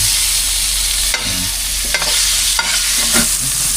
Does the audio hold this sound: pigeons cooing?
no